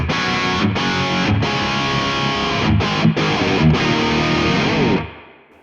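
A Valeton GP-50 set to its full-on Petrucci distortion preset drives an electric guitar into thick, sustained overdriven chords, broken by brief mutes and choppy stops, loud and close before ringing out into a fading tail.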